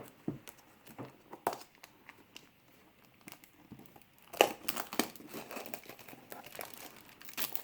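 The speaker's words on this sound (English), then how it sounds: "So this shrink wrap's held up pretty well." Plastic shrink wrap on a sealed Star Wars card game box is cut with scissors and crinkled, giving faint scattered crackles and snips that grow busier and louder toward the end, with no talking.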